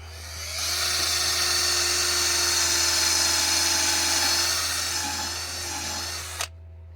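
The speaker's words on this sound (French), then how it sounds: "On va percer notre trou dans le poteau." Power drill boring a hole into a wooden clothesline post outdoors, a steady high-pitched whirring grind lasting about six seconds at close range before stopping abruptly, over a constant low hum.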